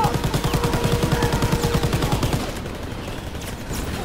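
Rapid automatic gunfire rattles in a World War II-style shooter game, a fast, loud burst of repeated shots for a couple of seconds before fading into background battle noise.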